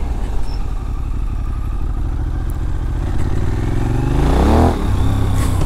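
A Benelli 752S motorcycle rides along a road with a steady, loud engine drone up close, rising in a brief rev near the end with some clatter.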